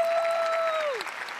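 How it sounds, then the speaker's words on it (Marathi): A studio audience at a Marathi comedy show breaks into sustained applause, fairly loud and steady, with a musical tone sliding down near the end as the clapping carries on. "पण जोरदार टाळ्या दोघींसाठी झाल्या पाहिजे"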